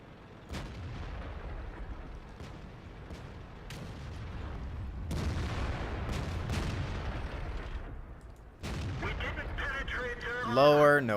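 Tank cannon shots in World of Tanks, several sharp booms at irregular intervals with decaying rumbles after each, a voice talking between them and a radio-like crackle near the end.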